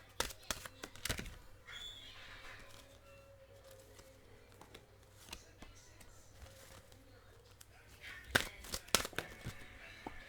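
Tarot cards shuffled by hand at a reading table, with quick papery riffles and crinkly bursts at the start and near the end, close and soft, and quiet handling noise in between.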